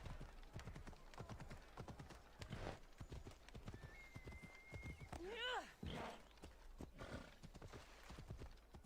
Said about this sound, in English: I got a new horse, a new Phobos.